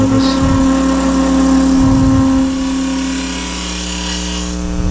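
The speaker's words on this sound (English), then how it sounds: "Always keeping pressure going this way into the lathe rather than trying to come out" Wooden acorn spinning on a wood lathe as a tool is held against it, a loud steady motor whine with a rough scraping rub from the cut that eases slightly partway through, no talk.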